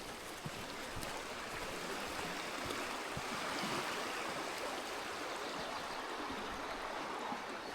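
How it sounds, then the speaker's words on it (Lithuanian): A clear stream flows through the middle of a forest, a steady broadband rush of running water close by with soft splashes, constant throughout with no voices. "Sustoju prie upelio, labai fainas ir gražus, vidury miško"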